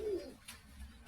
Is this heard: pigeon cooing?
yes